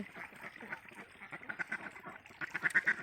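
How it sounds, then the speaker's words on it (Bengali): Ducks out on the water at a duck farm give a run of short, nasal quacks over a steady background murmur, with the calls growing louder and clustering toward the end. "এখন হাঁস প্রচুর খাবার খাচ্ছে এই যে দেখুন হাঁস পানিতে"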